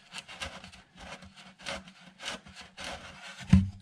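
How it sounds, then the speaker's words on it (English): Sandpaper rubbing back and forth on the kerfed wooden lining under a brace inside a Sigma Martin acoustic guitar, a steady series of close, scratchy strokes about every half second, with a small knock at the end. "right now I am just sanding the kerfed lining right under the cleat"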